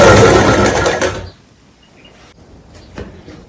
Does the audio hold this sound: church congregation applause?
no